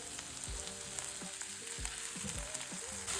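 Moringa flowers being stirred and tossed in a pan, soft steady frying crackle with repeated low scraping strokes of the spoon, close and moderately quiet, no voices.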